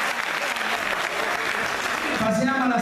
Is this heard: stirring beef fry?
no